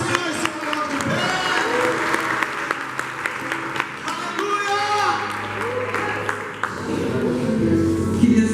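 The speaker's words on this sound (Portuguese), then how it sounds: "Aplauda o Senhor e se coloque de pé." Congregation applauding in a church during an intercession seminar, steady clapping with scattered sharp claps, mixed with crowd voices, cheering and talk throughout, with a brief dip before it swells again.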